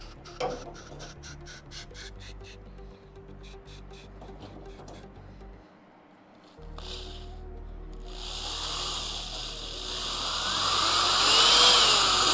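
A power drill drives a self-tapping screw during a Charger crew cab build, with a ratcheting whir, a brief pause, then a rising, sustained grinding whine as the screw bites in, close and loud.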